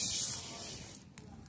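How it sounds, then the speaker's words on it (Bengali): Moong dal hits hot oil in a wok, making a brief burst of bright hissing sizzle that fades quickly and is followed by a couple of small clinks. "भालो करे गरम करे नियेछि, एबार आमी एर मध्ये मुगेर डालटा दिए देबो।"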